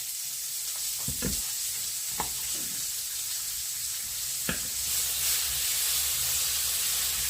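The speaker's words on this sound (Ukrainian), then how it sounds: "Викладаємо на розігріту сковорідку." Cubed pork fat (salo) sizzles and crackles steadily in a hot frying pan, with a few sharp pops and light clinks of a utensil near the start.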